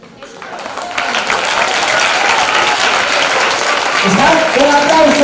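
A television studio audience applauds a musical impersonation performance, clapping swelling quickly and staying loud and dense, with a voice breaking in near the end.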